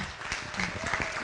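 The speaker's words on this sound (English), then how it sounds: "everybody give them a round of applause" A brief, soft patter of audience applause after a pitch at a fonio food pitch competition, with scattered clapping blending into a dense hush.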